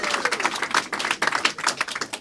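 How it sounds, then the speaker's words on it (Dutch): Applause at an art auction, a room of people clapping briskly and steadily with individual claps distinct, moderately close and continuing for the whole stretch. "Applaus voor Gert dat hij bij is."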